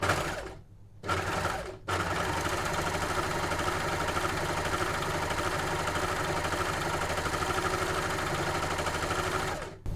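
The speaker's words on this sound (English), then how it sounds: "it will now cut off my excess fabric for me at the same time that it's sewing" A Janome overlocker runs at a steady rapid whir as it sews and trims excess fabric, starting with two brief stop-start bursts and then running continuously and loudly up close.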